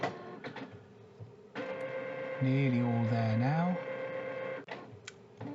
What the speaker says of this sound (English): Apologies if you can hear the printer printing in the background while I'm doing my voiceover.